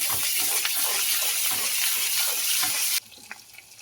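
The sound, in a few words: ginger and garlic paste frying with tomato in pan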